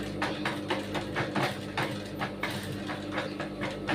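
A sewing machine stitches fabric with a steady, rhythmic mechanical clatter, close and continuous over a low motor hum, with no talking.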